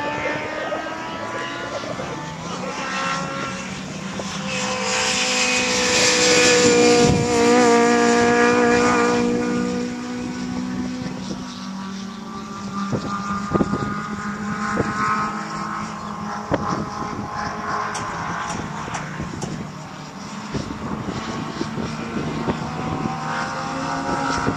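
A Hillman Imp race car approaches along a track at night, its engine noise swelling to a loud peak as it passes close by, then fading away as it drives off.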